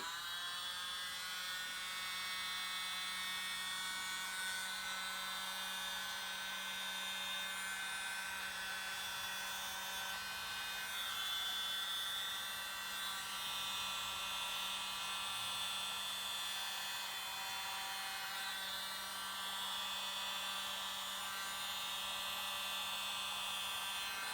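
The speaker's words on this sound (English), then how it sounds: "now I'm going to get my trusty little blower, and we're going to spread this out into some sort of flower shape" A small handheld blower spreading acrylic pour paint across a large canvas gives a steady, high-pitched electric whine with an airy hiss, holding constant and close for the whole stretch.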